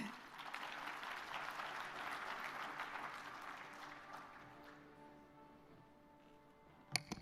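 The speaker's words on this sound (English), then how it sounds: "Let's give him a warm round of applause." Sustained audience applause at the closing ceremony of an agroforestry world congress, steady dense clapping for several seconds that gradually fades out, ending with a couple of sharp knocks.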